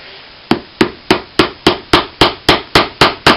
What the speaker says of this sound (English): drive an aluminum nail into a hard leather base